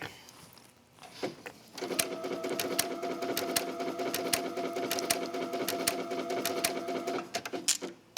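Sewing machine stitching a wrap dress, a steady close whirring run of rapid needle strokes lasting several seconds, starting after a few quiet handling clicks and ending with brief taps.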